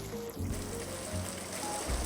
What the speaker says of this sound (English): sometimes it will rain, like /set weather rain